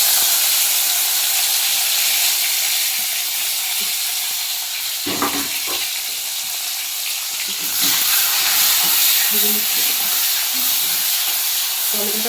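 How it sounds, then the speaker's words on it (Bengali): Chopped tomato frying in oil with black cumin seeds for a spicy Bengali bhola fish curry, giving a steady close sizzle and hiss with a few light stirring clatters along the way. "টমেটোটা একটু ভেজে নিই সামান্য"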